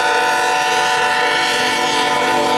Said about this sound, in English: Empty steel train.